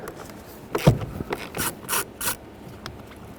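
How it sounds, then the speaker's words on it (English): A T20 Torx bit backs out a screw holding the blower motor of a 2009-2014 Honda Fit, giving a few short, close ratcheting clicks and scraping rasps in an uneven sequence. "I'm gonna go for the T20 Torx bit, and I'm gonna remove this screw over here."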